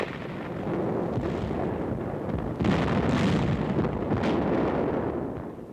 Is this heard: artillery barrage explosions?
yes